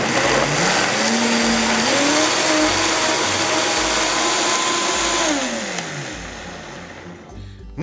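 A blender runs loud and steady, purees hot sauce made with apple cider vinegar, its motor pitch shifting as the load changes, then winds down near the end.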